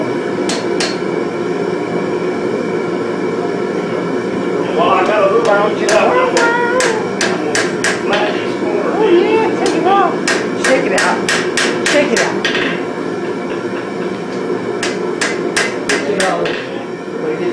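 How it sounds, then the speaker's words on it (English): Sharp metallic hammer blows ring out in irregular bursts while forging a filing vise, some rapid runs and some spaced strikes, with a faint voice in the background. "when I'm hitting on this side, I'm using my round part of my hammer"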